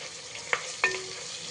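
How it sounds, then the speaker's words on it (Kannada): Green chillies fry in a pan with a steady broadband sizzle, broken by two short scraping stirs of a utensil, heard close with no talk. "ಹಸಿಮೆಣಸಿಕಾಯಿನ ಸ್ವಲ್ಪ ಫ್ರೈ ಮಾಡ್ಕೊಳ್ತಾ ಇದ್ದೀನಿ."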